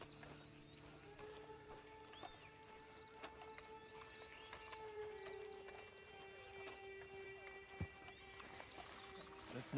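Hooves of a horse in a video game clop steadily at moderate distance, set against a sustained musical drone and ambient game sounds.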